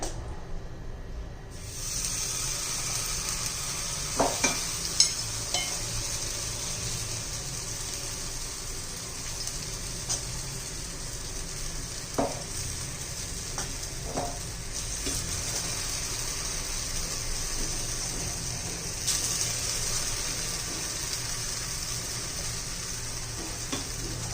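Sprouted moong appe batter cooking in an oiled, heated appe pan, a soft continuous hiss and sizzle throughout with a few faint utensil taps.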